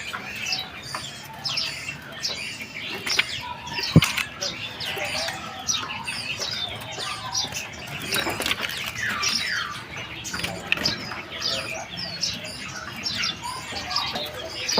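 Caged birds offered for sale chirp and tweet continuously in a dense, busy chorus, with occasional wing flutters and a sharp knock near the start. Speech mixes faintly into the background throughout.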